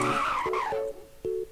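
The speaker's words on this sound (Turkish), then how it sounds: "frene basınca araba çığlık attı resmen" Tires squeal in a descending, high-pitched screech as a car in a Roblox racing game brakes, followed by a couple of shorter squeals over engine noise.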